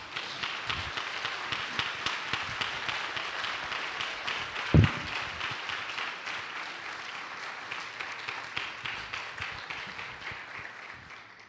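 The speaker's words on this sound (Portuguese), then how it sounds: "Você pode aplaudir o nome dele?" A church congregation applauds together, a dense, steady wash of many hands clapping that continues evenly without letup, with one brief thump partway through.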